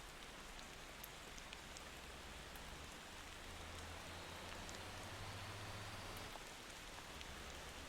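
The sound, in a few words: rain in Motor Town video game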